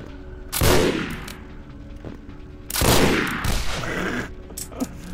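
Gunfire in the vampire role-playing game Vampire: The Masquerade – Bloodlines: two loud, heavy shots about two seconds apart, each with a long echoing decay, then a few quieter clicks and thumps, no talking.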